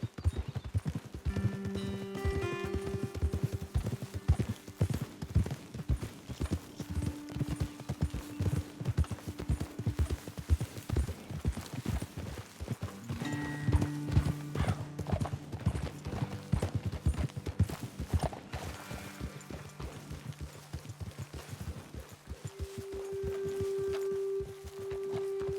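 Hooves clip-clop in a steady walking rhythm in Red Dead Redemption 2, several horses close by, with occasional snorts and a low musical drone underneath.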